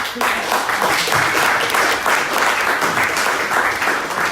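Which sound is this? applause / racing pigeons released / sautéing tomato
applause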